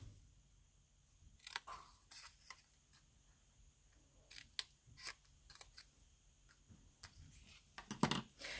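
Scissors snip the corners off paper envelopes for a handmade double-pocket wedding gift card holder. The cuts come as a series of quiet, crisp, irregular clicks close by.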